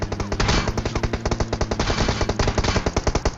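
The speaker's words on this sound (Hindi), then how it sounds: "यहाँ पे इतनी देर में जो है पीछे से फायरिंग होती है।" Gunfire in the mobile battle game PUBG Mobile: loud, rapid automatic bursts crackle almost without pause, close and dense throughout.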